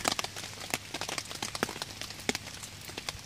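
Steady patter of rain striking a taut tarp at a campsite, with sharper individual drops tapping irregularly throughout, close by and fairly quiet, no voices.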